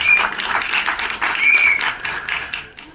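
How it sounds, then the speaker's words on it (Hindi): An audience at a film trailer launch event claps loudly for the crew, a dense burst of applause that swells and then gradually fades toward the end. "जोरदार तालियां"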